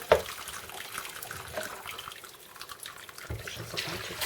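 Sauce for Polish beef roulades pours over the rolls in a pot, a continuous soft splashing and trickling of liquid close by, with small drips and a brief clatter at the start.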